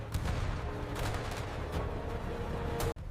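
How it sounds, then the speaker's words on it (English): A hidden 47mm gun and automatic cannons fire down a beach from the flank in a battle scene, with dense, rapid bursts of gunfire and booms over a rumbling background, ending abruptly. "A hidden 47mm gun and automatic cannons fire down the beach from the flank."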